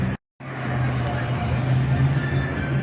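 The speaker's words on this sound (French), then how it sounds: "Et là, t'as une petite MG qui va passer." A small MG drives past at a car-spotting afternoon in Spa, a steady engine rumble rising after a brief cutout, with people talking over it.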